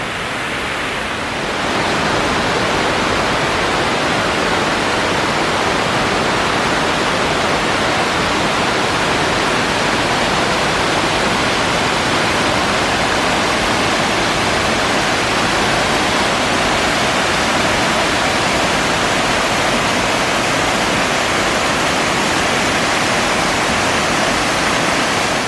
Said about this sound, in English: These falls are lovely.